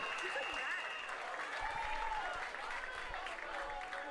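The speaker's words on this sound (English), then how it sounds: "Let's have a nice round of applause for every single person in the 200 back, men and women's" Spectators at a summer senior swim meet finals applaud swimmers of the 200 backstroke, a steady wash of clapping in a reverberant natatorium with faint crowd noise and a voice underneath.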